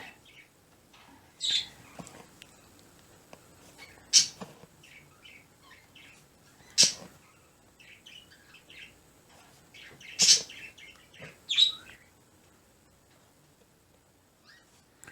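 Small birds chirp outdoors in a quiet setting, about five sharp, bright calls spaced a few seconds apart and fairly close, with faint soft twittering between them.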